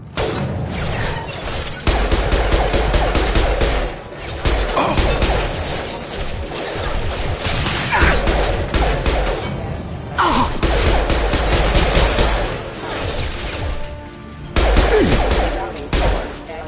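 Rifle gunfire in the video game Mass Effect Legendary Edition. Loud, dense volleys of shots and impacts continue almost without a break, with brief lulls. Combat clatter and crashes are mixed in.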